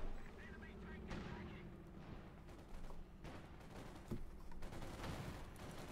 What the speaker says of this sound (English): Sturmpanzer fires its 150mm howitzer gun there.